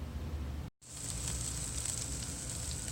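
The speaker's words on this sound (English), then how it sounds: "I don't know if you can hear it, but it's sizzling." Food sizzles in a Magic Chef air fryer with a steady dense crackle and hiss, briefly cut off near the start, then continuing evenly without talk.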